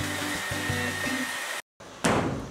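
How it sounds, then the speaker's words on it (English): A handheld hair dryer blows hot air onto window shrink plastic from a Frost King kit, a loud steady whir that cuts out briefly, then restarts with a rough burst. "grab your hairdryer and blow the plastic until it's a nice clear medium."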